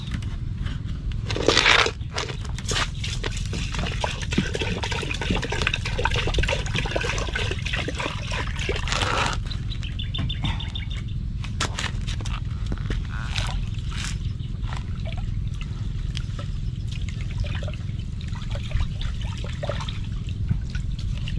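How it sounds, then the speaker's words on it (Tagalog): Rice being washed by hand in water, with wet swishing, trickling and crunchy grain sounds in bursts over steady low background noise, no talk. "Hugasan ko lang yung bigas"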